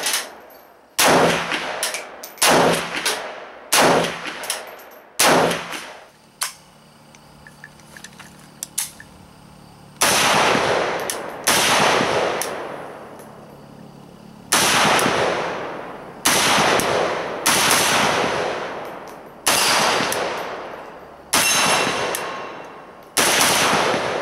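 An Arsenal SGL 21 AK rifle fitted with a muzzle brake fires outdoors: loud, sharp single shots and quick bursts in uneven groups, each crack trailing a brief echo, with a quiet pause midway.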